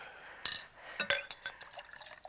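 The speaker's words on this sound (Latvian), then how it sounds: "Es tūlīt ieliešu ūdenī." Water pours into a glass in a quiet indoor drama scene: a few soft splashes and trickles over about two seconds, close and faint, with no talk.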